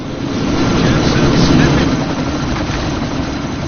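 Helicopter engine and rotor noise from the Deus Ex video game, a loud, dense whirring roar that swells briefly and then holds steady, with no clear speech.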